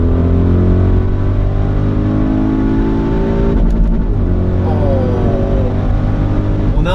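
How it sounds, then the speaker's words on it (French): Audi RS Q8 (2020) engine revving hard in manual mode and bouncing off the rev limiter, a loud, close, steady drone with harmonics that flutter and step mid-clip, heard from inside the SUV. "On a un petit rupteur."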